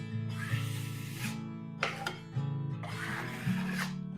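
Broad knife scraping excess plaster off a patched hole in a wall, pressed with two fingers, giving several close rasping strokes in a steady rhythm over a constant low hum.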